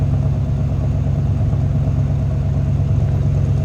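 A 1984 Chevrolet K20 4x4 pickup engine idles steadily up close, a smooth continuous low rumble with an even pulsing beat and no talk.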